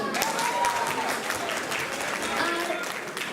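Audience applause at a Bangladeshi community school's Eid performance event in Newcastle, a steady, dense round of clapping from a seated crowd lasting throughout, with faint voices mixed underneath.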